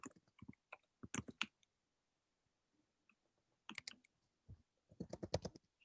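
Clicky keystrokes tap on a computer keyboard in quick, uneven bursts with pauses between, close and quiet, picked up over an open microphone during an online meeting.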